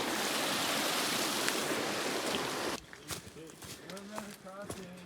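Water rushes loudly at a river crossing on the Appalachian Trail after Hurricane Helene damage, a steady broad roar that suddenly drops to a quieter flow with people talking and footsteps nearby.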